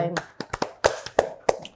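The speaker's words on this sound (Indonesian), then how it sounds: "tepuk tangan dulu" A few people clapping in an interview setting, a quick scatter of sharp, close claps and taps in loose rhythm, fairly faint.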